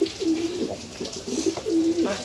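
Pigeons coo in repeated soft, throaty phrases close by while being given their morning feed, one call following another in an uneven rhythm over faint background rustle.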